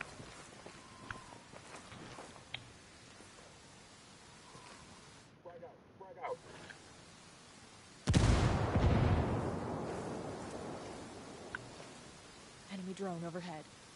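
Gunfire in the tactical shooter Ghost Recon Ghost War, a loud broadband burst of shots and impacts starting partway through and lingering, amid quieter game ambience and team voices talking.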